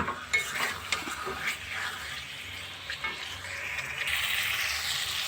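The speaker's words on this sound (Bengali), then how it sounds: "ডিম আর আলু কিন্তু খুব ভালো করে আমি কষিয়ে নেব" Eggs and potatoes with spices are stirred and fried in a pan, giving a steady soft sizzle under repeated scrapes and taps of a spoon against the pan.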